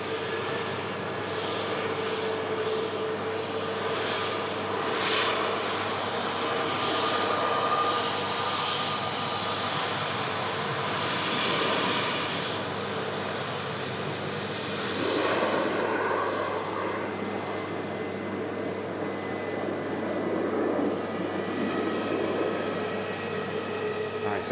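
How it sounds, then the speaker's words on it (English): An Air Transat Airbus A321neo taxis out at Manchester Airport, its engines a steady rushing whine that swells and eases slightly, with talking partly over it. "Aircraft on the taxi out, an aircraft we saw arriving earlier, the Air Transat A321 Neo, making its way back over to Canada"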